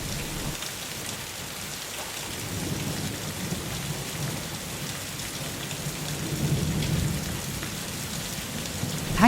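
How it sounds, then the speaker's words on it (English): Heavy rain pours down steadily through a fierce night thunderstorm, with low rolling thunder swelling beneath the downpour and a sharp crack near the end; no voices. "that night a fierce storm raged. Rain lashed down and lightning tore across the dark sky"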